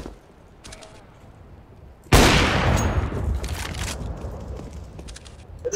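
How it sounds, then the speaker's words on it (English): A flashbang grenade goes off in a Counter-Strike match as a sudden loud burst that decays into a long hissing wash, following a quieter stretch with faint game sounds. "Throwing a flashbang."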